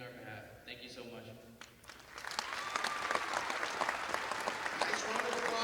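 A crowd at a varsity boys basketball game gives veterans a warm round of applause, with clapping building and holding steady after a moment of an announcer speaking.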